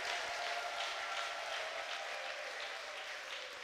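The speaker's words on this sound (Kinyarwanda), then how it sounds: "Komera Imana amashyi menshi." A church congregation applauds at length during a pastor's sermon, a steady dense wash of many hands clapping at an even, sustained level throughout.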